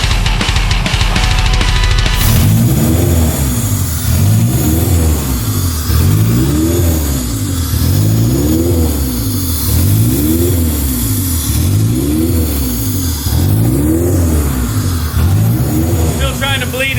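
A Honda K20A2 engine swapped into an EG Civic, its idle surging up and down in a steady repeating rise and fall, loud and close throughout, with someone talking over it.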